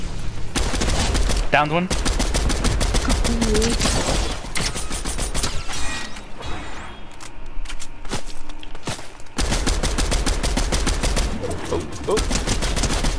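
Rapid bursts of video game gunfire crackle loudly throughout a shooter match, with dense automatic volleys and brief pauses, while a player talks excitedly over the shooting.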